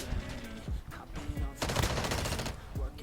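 Dense automatic gunfire in the mobile shooter Call of Duty: Warzone Mobile, rapid bursts and rattling volleys continuing throughout, loud and busy with overlapping shots.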